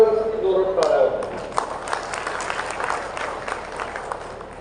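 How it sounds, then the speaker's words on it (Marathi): Applause from a large crowd at a ceremony honouring the site Dr. Babasaheb Ambedkar visited in Kotul: dense, steady clapping and crowd noise lasting several seconds, with voices mixed in. "मला खरं तर त्या देशमुख परिवारासाठी जोरात टाळ्या होत्या."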